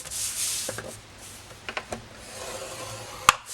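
Cardstock being scored on all four sides for a recessed gift box gives soft rubbing and scraping strokes, a few short scratchy passes and one sharp tick near the end, with no talking.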